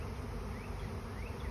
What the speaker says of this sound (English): And now a swarm is moving in.